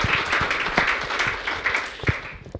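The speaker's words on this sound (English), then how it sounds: "So big round of applause to everybody for their hard work." An audience at a tourism outlook forum applauds, producing a dense, continuous wash of many hands clapping that stays loud and steady for a couple of seconds before thinning at the end.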